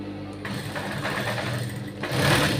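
A sewing machine stitches a blouse, a close steady whirring run with a short pause and then a slightly louder burst at the end, no one speaking.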